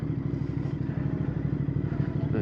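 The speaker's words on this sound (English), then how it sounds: "We'll get a short ride in so you guys can actually hear what the engine sounds like." A Royal Enfield Bear 650 twin fitted with a Red Rooster performance exhaust thumps along on a short ride, a close, steady throbbing exhaust beat with a rapid, even pulse.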